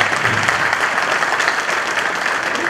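Audience at a regional association federation meeting applauding, a dense, steady wash of clapping from a large room filling the whole stretch without pause.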